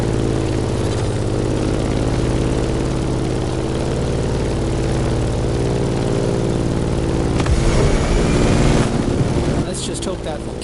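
A propeller airplane engine in the racing game The Crew Motorfest drones steadily and loudly throughout, a continuous low hum with a brief swell near the end.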